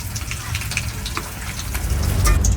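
Rohu fish frying in oil makes a loud, dense crackling sizzle that stays steady and swells slightly toward the end, heard up close in a home kitchen.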